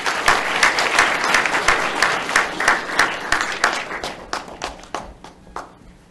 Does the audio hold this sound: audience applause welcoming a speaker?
yes